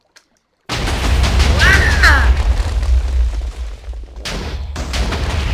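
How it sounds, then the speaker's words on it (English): A Husky Mudkipz mod TNT block in Minecraft detonates in a sudden loud boom that rolls into a long crackling, rumbling blast with repeated bursts, preceded by a brief exclamation from a player. "Hopefully this doesn't do a big explosion."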